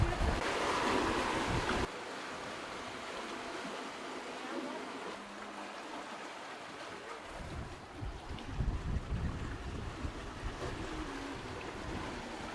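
A sailboat moves across the sea off the south coast of Turkey in light wind. Waves wash against the hull and wind buffets the microphone in a continuous rushing wash that grows choppier toward the end.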